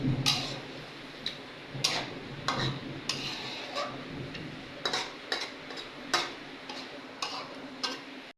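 Meat being stirred and fried in a pan, with a series of sharp utensil clacks and scrapes against the pan at irregular intervals over a low background hiss and no talking.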